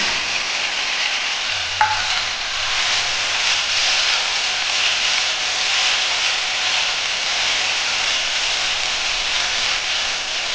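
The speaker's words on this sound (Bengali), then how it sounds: "এখন আমি এর মধ্যে এই টমেটো কুচিকেও দিয়ে দেবো" Chopped tomatoes fry in a pan for a soyabean and potato sabzi, with a loud, continuous sizzle and hiss and a brief clink of stirring.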